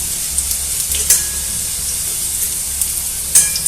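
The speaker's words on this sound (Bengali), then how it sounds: "উচ্ছেগুলো হালকা একটু ভেজে নিতে হবে" Bitter gourd (uchhe) fries lightly in a pan. A steady oil sizzle hisses throughout, broken by a few soft scrapes and clinks of stirring, with no talk.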